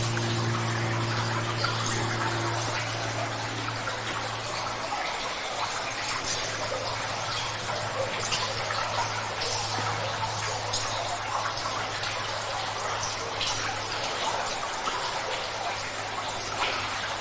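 Water pours and trickles steadily inside the Hardham Canal Tunnel beneath a railway, a continuous broadband rush with a low steady hum and faint dripping ticks, close and fairly loud throughout with no talking.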